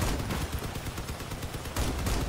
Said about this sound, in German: da kam gerade ein Schuss von der Seite